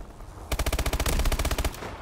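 In Advanced Warfare exo survival gameplay, an SMG fires one loud, rapid burst of about a dozen evenly spaced shots that lasts over a second, with no voices.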